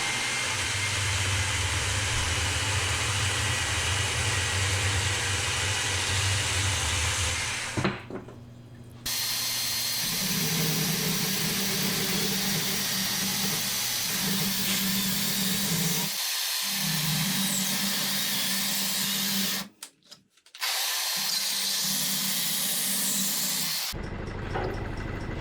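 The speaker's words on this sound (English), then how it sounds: "So the first thing I have to do is take some of the bulk off the bottom of the bowl, just to help my lathe out a little bit." A wood lathe spins an off-balance hickory log bowl blank, giving a loud, steady hissing whir with a low rumbling drone, broken by several abrupt stops and restarts.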